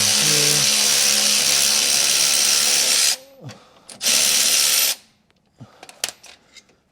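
Power tool driving a 17 mm socket on a bolt of a Mercedes E500, a loud sustained whirring buzz followed by a second short burst, then quiet clicks and clinks of metal parts being handled up close.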